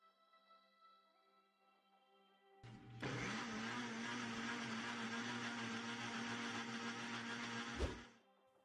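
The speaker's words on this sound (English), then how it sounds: "while the blender is doing its job" A blender whirs a homemade dandruff remedy thinned with water, starting abruptly after quiet background music and running as a loud, steady motor whine for about five seconds before cutting off.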